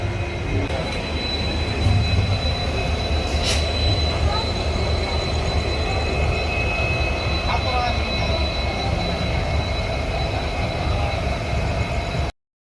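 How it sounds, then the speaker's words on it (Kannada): A passenger train on the Hubli to Delhi route pulls away, giving a steady, loud rumble of rolling stock and wheels on rails with a faint high squeal, continuous throughout. "ಟ್ರೈನ್ ಈಗ ಬಿಡುತ್ತೆ"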